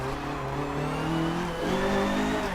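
A Datsun 510 race car in Forza Motorsport 7 with its engine revving high and shifting pitch as it accelerates, a loud, continuous whine with tires squealing, and no talking.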